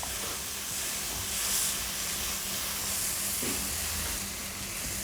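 Tomatoes sauté in a pan with a continuous, even sizzle and soft hiss close by, while a stirring clink sounds briefly partway through.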